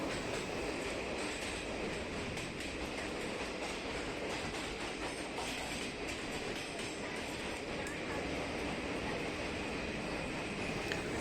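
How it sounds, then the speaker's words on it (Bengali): A passenger train on the Araku Valley to Visakhapatnam line rumbles steadily as it runs into a long mountain tunnel, a dense, unbroken roar of wheels and carriages filling the space. "ট্রেনটি এখন একটি টানেলের ভেতরে ঢুকবে।"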